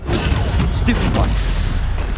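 A Stupefy spell is cast in Hogwarts Legacy, landing as a short punchy magical burst amid continuous combat effects and dense game audio.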